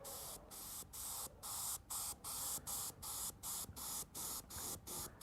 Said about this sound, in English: spray a bit, let it dry